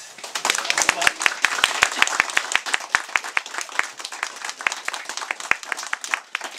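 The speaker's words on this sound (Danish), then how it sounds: "Jeg tror, der skal klappes lige lidt." A theatre audience claps after a play, starting as a patter of separate sharp claps that thickens into fuller applause, then thins to scattered hand claps near the end; a voice is faintly present at times.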